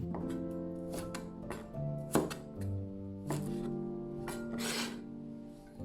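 Knife chopping cucumber peel into chopstick-thick strips on a cutting board, a series of crisp, close taps at an uneven rhythm, fairly quiet, with faint music underneath and no talk.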